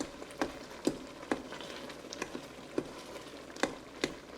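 Tomato bacon jam reducing in a pan gives a soft, steady sizzle and bubbling. Sharp little pops and spits break through it every half second or so. Nobody speaks.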